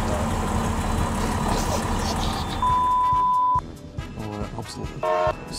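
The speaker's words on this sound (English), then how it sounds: "it's over the sound of this diesel engine," A diesel train engine on the Croatian railways runs loudly and steadily, a constant low rumble with a long sustained tone through the middle, then the noise thins into broken, fluttering sounds near the end.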